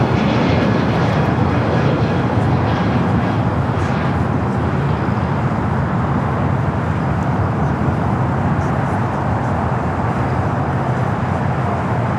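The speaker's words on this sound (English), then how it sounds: "Jerry, this is Alaska's newest livery, the FIFA World Cup. 737 MAX 9" An Alaska Airlines Boeing 737 MAX 9 in FIFA World Cup livery runs its jet engines at Los Angeles International Airport. A loud, steady roar fills the whole clip, close and unbroken, with no talk over it.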